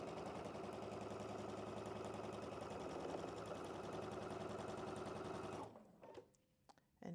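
A sewing machine stitches quilt block pieces in a steady, continuous run, loud and close, then stops abruptly near the end, leaving only light handling noises.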